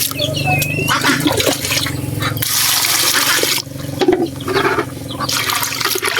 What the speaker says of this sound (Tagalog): Tabad muna natin sa tubig